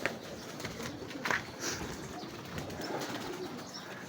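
A young fancier's racing pigeon cooing softly outdoors amid steady background noise, with a brief flutter of wings.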